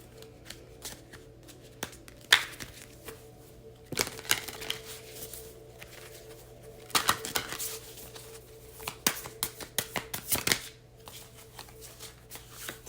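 A tarot card deck being shuffled: soft riffling and flicking of cards in several quick bursts separated by quieter pauses, close and fairly faint, with no talk.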